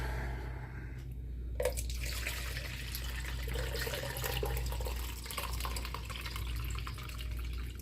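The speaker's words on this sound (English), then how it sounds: "I'm gonna pour some of this water in here" Water pours steadily into a measuring cup during a snow globe water change, a continuous close trickling splash that starts after a brief clunk and runs on without pause.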